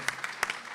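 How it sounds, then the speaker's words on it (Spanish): Brief, light applause from a small audience at a book presentation, a few scattered claps in quick irregular succession, fairly faint and with no voices over it. "un aplauso para el editor"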